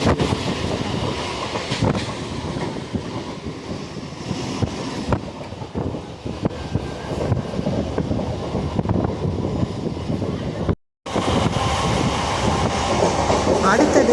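A passenger train rumbles and clatters steadily past through Korattur railway station in Chennai, with a continuous roar and wind buffeting the microphone throughout, briefly cutting out near the end.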